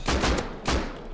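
Gunfire in the survival game Rust: two loud, close bursts of shots, the first around a quarter-second long and the second a moment later, each with a sharp attack and a fading tail, with no talking.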